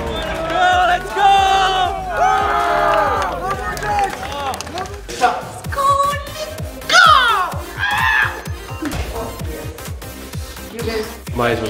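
A packed arena crowd at the PGL Major Counter-Strike tournament in Stockholm roars and cheers in surging waves, mixed with close, excited shouting and talk.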